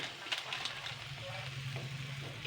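Noodles frying in a pan over a low flame with chili sauce, tomato ketchup and Maggi masala, being lightly stirred: a soft, continuous sizzle at low volume with occasional faint stirring scrapes.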